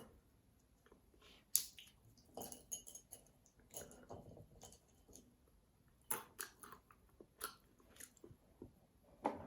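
Close, crisp crunching and biting of nuts eaten as a healthy dessert, with irregular sharp cracks spread across the clip and softer chewing between them, no talking.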